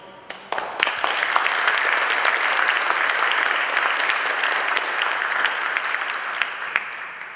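Sustained applause from a large indoor audience honoring a team at a UK gathering, starting abruptly and holding steady and loud throughout, with no talk over it.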